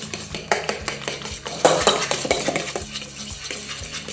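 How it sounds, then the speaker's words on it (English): Chickpea flour batter for socca is whisked briskly in a bowl, with a rapid, close clatter of utensil against the dish in an even rhythm and no talking. "give it a really good mix"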